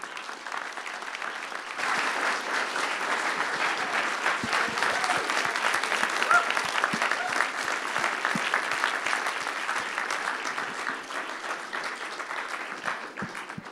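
Sustained applause from a large audience, steady dense clapping that swells after a quiet start and continues without pause.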